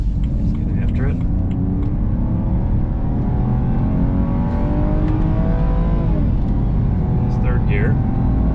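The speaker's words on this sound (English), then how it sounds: "let's take it for a drive and see how it sounds inside compared to what the stock was" Cabin sound of a BMW E90 with the N52 engine and an Active Autowerke performance muffler, a steady low engine drone rising in pitch as the car accelerates, heard from inside with a voice talking over it.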